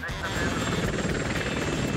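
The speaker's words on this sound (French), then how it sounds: "Un vrai hélicoptère?" Real helicopter in a loud animated-style action scene, steady rotor and engine drone throughout, with voices talking over it.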